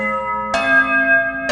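A notification bell chimes twice, each a bright ringing strike that rings out with a sustained metallic tone, the second strike cut short at the end.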